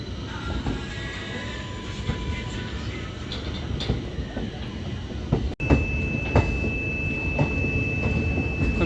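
Train rolling on the Dehradun to Amritsar route, a loud continuous rumble with rhythmic wheel clatter, a brief dropout midway and a steady tone appearing afterward; faint voices mix into the noise.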